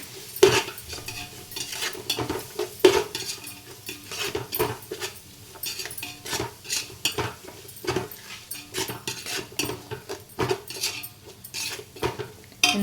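Egg dum biryani ingredients being stirred in a pot, with a metal spoon repeatedly scraping and clinking against the sides in an irregular rhythm, close and fairly loud, alone with no talk.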